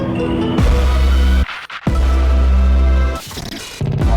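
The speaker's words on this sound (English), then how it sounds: "That pan from the left to right ear in the headphones" Loud electronic music intro, with deep bass hits panning from the left to the right ear, briefly dropping out twice before surging back, full and close throughout.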